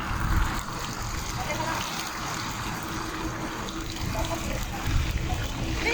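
A fountain at City of Dreams in Limassol, Cyprus, at night, its water rushing and splashing in a steady, close wash, with voices chatting over it.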